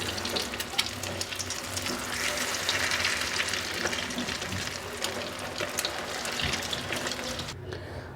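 Potato and chicken tikki cutlets frying in a pan, giving a steady close sizzle with scattered crackles and pops as they are turned over, running continuously without pause.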